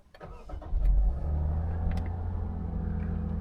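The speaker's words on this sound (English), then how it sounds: "You need to put your foot on the brake," A 2013-era Lexus IS250 engine starts by push button, a quick crank catching into a brief rev, then settling into a low, smooth, steady idle heard from close by.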